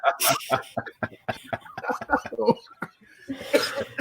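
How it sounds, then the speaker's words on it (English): Several harsh coughs break up lively talk and chuckling, with a louder burst near the start and another near the end. "I got a cough"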